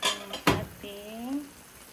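Stirring monggo beans with coconut milk in a cooking pot, with a couple of sharp scraping clinks of a utensil against the pot, followed by a short voiced sound.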